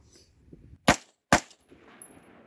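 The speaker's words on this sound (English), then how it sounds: "first mag, pull test, should fire two rounds just fine" A handgun fires two sharp rounds about half a second apart during a magazine pull test, close and loud against quiet surroundings, with no talk.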